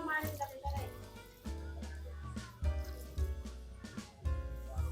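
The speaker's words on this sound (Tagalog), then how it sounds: "Lagyan natin siya ng tubig" Water poured into a cooking pot of pork with whole peppercorns, ground pepper, bay leaves and seasoning for adobo, a splashing pour in short bursts close by, mixed with other sounds.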